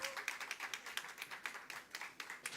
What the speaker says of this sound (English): Come on, let's hear a big round of applause.